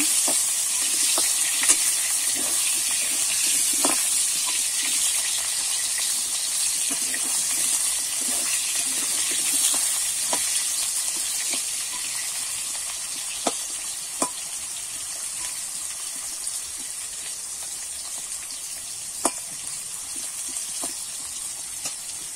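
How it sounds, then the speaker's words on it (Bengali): Steady sizzle of potatoes frying in a pan, with occasional scraping clicks of a utensil stirring, continuous and fairly close, no voices. "একটু নেড়ে চেড়ে নেব"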